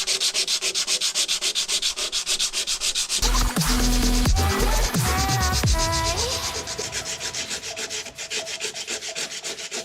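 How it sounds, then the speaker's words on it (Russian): Old car body filler being sanded down to bare metal with 80-grit sandpaper gives a rapid, rhythmic rasping scrub, close and steady, broken by a few seconds of clattering handling in the middle. "берем 80-ку и погнали. Будем выравнивать старую шпаклевку с металлом."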